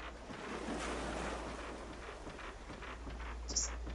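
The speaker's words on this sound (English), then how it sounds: "Absorb the nice soothing sound of the water" Water in the Project Zero 2 (Fatal Frame: Deep Crimson Butterfly) remake, a soft, steady wash of flowing, surf-like water with a gentle rushing texture throughout.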